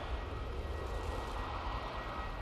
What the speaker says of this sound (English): EasyJet to Pisa. There's that plane that you can hear at the moment.